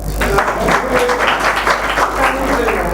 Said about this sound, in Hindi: बजा दो इनके स्वागत में एक बार तालियां।